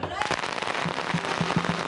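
Rapid crackling pops of about 100,000 firecrackers burst in a dense, fast string at a Chinatown firecracker event, moderately loud with some background voices.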